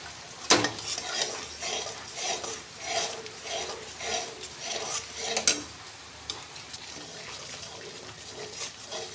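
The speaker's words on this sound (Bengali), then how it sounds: "এবার টমেটো ভালো করে কষিয়ে নিয়ে এর মধ্যে বেটে রাখা কাজু চালমগজ পোস্ত পেস্ট দিয়ে দেবো।" Tomatoes sautéing in a pan with a paste of cashew, melon seed and poppy seed, a steady soft sizzle broken by repeated scraping stirs and clinks of a spoon against the pot, fairly quiet with no talking.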